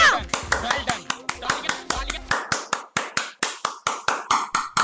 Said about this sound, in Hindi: बंद कर अपनी तालियां।